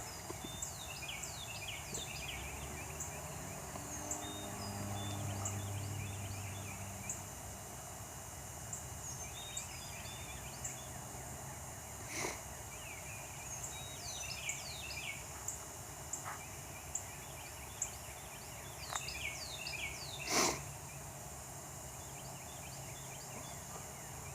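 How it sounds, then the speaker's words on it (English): Birds sing in a morning garden, repeated chirping phrases near and far over a quiet outdoor background, with a few soft knocks and a low hum. "I hope you can hear the birds."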